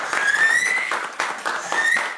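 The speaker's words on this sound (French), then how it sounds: "Faut applaudir, faut siffler." A studio audience gives brief applause mixed with sharp whistles for about two seconds, fairly close and lively.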